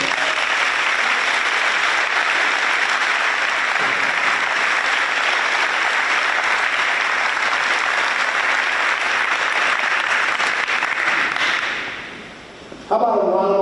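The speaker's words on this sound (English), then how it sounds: "How about a round of applause for all of our winners tonight?" An awards-night audience applauds its winners with dense, sustained clapping for about twelve seconds before it fades out and a voice begins speaking.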